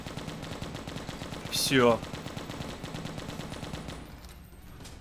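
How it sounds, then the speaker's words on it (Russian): Sustained machine gun fire in the video game Left to Survive, a rapid even rattle of shots running through most of the stretch before stopping, with a brief voice heard over it. "Давайте-ка немножечко перезарядка и обратно возвращаемся на пулемет."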